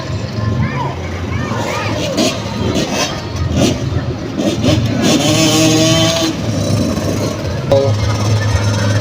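Kids' 50cc motocross bikes racing in a final heat at a motocross challenge in Nueva Ecija, small engines buzzing and revving past under a busy crowd and announcer chatter throughout.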